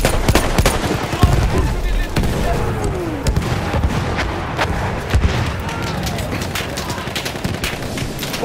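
An artillery strike in Battlefield 1 multiplayer on the Sinai Desert map brings a dense barrage of booms and sharp gunfire cracks. The blasts overlap one another continuously at close range, with battlefield voices mixed in.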